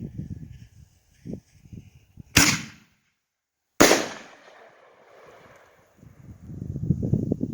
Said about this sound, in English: Blinking bombs by Iron Man Fireworks. Alright, we're starting off with the green blinking bomb.